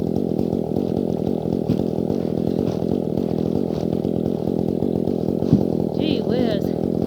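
A Dolmar chainsaw cuts through the roots of a felled tree, its engine droning loud and steady at close range with a brief rise in pitch near the end.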